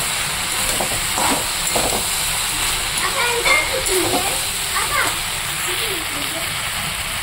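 Water poured into vegetables already cooking in a hot pan on a home stove, giving a steady loud sizzle and hiss with bubbling throughout, and no clear speech.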